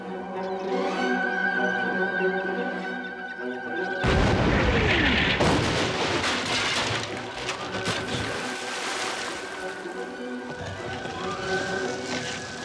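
Ship cannons fire in a pirate sea battle aboard a sailing vessel, heavy booms breaking in around the four-second mark and rolling on through a dense, noisy stretch of battle sound with music and effects.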